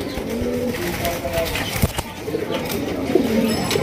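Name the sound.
male Iranian toggi pigeon cooing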